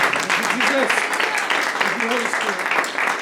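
A church congregation at a bilingual English-Spanish service claps steadily, the rapid scattered applause running under a voice speaking through its entire length.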